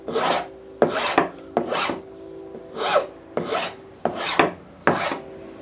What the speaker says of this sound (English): So I take my big file,